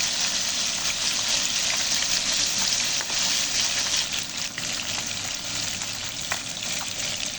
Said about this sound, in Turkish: balıkları şöyle nar gibi kızartıp